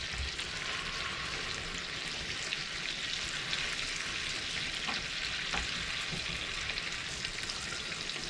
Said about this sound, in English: So that's my bacon in there now, and my liver cooking away quite nicely.